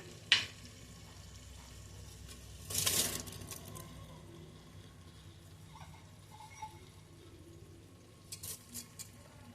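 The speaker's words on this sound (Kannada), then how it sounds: "ಅಕ್ಕಿ ಹಾಕ್ಕೊಂಡು ಮಸಾಲೆಯಲ್ಲಿ ಚೆನ್ನಾಗಿ ಮಿಕ್ಸ್ ಮಾಡ್ಕೋಬೇಕ್ರಿ." Washed rice tossed and stirred into oily masala in a pan for tomato rice, giving a soft continuous sizzle with a scrape near the start, a brief louder burst of frying, and a few light clinks toward the end.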